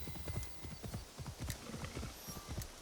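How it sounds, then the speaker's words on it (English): Horse galloping through a town in Assassin's Creed Shadows, a fast, steady clip-clop of hooves running continuously at close range over a background ambience. "the horse galloping through the towns"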